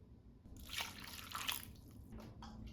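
Two cups of beef broth poured into a crock pot with onion already inside, a faint splashing pour lasting a couple of seconds, quiet and close.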